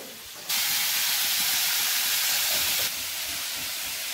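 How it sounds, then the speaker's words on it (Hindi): Pot of dal (lentils) on a boil, its pressure cooker releasing steam in a loud, steady hiss that starts abruptly, holds for a couple of seconds, then drops to a softer continuous hiss. "उबलने वाला है, उबल चुका है, कर देते हैं इसको बंद।"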